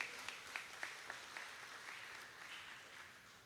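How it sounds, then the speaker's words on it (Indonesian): Scattered, fairly quiet clapping from a church congregation at a worship service, with a few sharper claps standing out near the start before settling into a steady patter. "Berikan tepuk tangan yang paling meriah"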